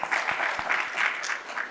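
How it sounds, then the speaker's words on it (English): Audience applause at a mining technology and innovation summit, a steady, dense wash of clapping from a crowd lasting under two seconds, fairly close and even in level with no voices over it. "A round of applause for him, please."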